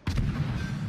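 A single sharp gunshot fires in a first-person shooter video game, a loud, close report with a short booming tail.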